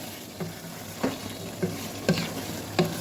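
Ginger-garlic paste for chicken biryani sizzles steadily in a pan while a utensil scrapes and stirs in five distinct strokes at roughly even intervals, close up.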